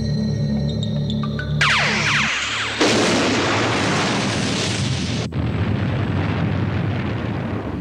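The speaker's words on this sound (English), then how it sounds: "This is Space Sergeant 101. Open fire!" Heavy gunfire and explosions in an episode of the Terrahawks science-fiction puppet series, loud and continuous with a sweeping swoosh followed by sustained booming blasts and roaring rumble.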